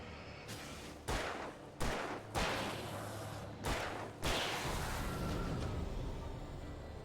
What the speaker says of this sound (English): Man, these gunshots and that hit, that sound effect is so good.